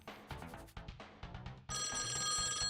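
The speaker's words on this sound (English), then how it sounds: "Oh no, the phone's ringing." A telephone bell rings in a video game about baking, arriving after a stretch of music and then sounding as a steady, loud, continuous ring to the end.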